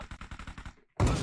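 Shotgun fire in the mobile battle-royale game BGMI: a quick burst of sharp, evenly spaced shots, then a brief pause and a single louder, heavier blast, close and without any talk.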